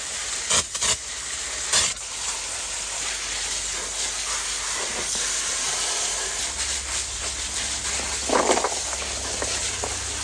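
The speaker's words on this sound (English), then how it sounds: "let's go wash it off and see what we get" Water sprays over a rusty metal part to rinse off rust remover, producing a loud, continuous hiss with a few brief splashy bursts.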